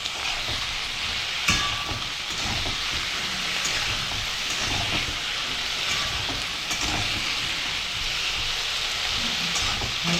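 Vegetables for mung dal fry lightly in a pan, giving a steady, dense sizzle with faint occasional stirring sounds, close and continuous.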